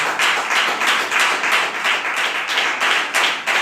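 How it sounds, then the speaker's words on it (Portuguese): A church congregation claps for Jesus in strong rhythmic unison, the beats pulsing evenly and loudly throughout, with no speech over them. "Palmas para Jesus."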